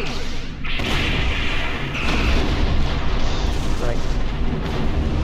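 Torpedo explosions in the Star Trek Online space game, heavy rumbling blasts and booms rolling one into another, loud and continuous, with voices talking over the combat.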